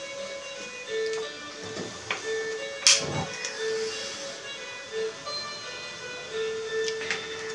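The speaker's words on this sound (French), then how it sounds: "on va allumer le gaz" A gas burner on a kitchen stove is lit: a sharp click and a brief whooshing burst, over a low steady background hum with faint scattered ticks.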